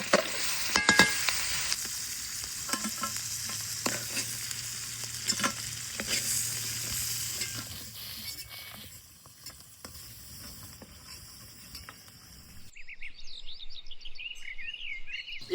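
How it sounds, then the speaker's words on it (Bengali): Crabs, caught from a wetland in the rainy season, frying crisply in oil and being stirred in a pan, with a bright continuous sizzle and scraping stirs that ease off later, as faint bird chirps come in near the end. "কাঁকড়গুলা কিন্তু পুরা দমছে একদম খুব সুন্দর করে একদম ভাজি নিয়েই, খুব মরমরা করে ভাজি নিয়েই"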